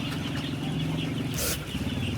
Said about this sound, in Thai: นี่คือเอามาขายคือยกมาแล้วก็ขายเนี่ยนี่คือไก่บ้านแท้ๆนะ